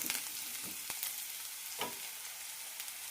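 Spice powders go into okra curry frying in a pan, bringing a steady sizzle broken by several sharp stirring clicks and scrapes, with no voices.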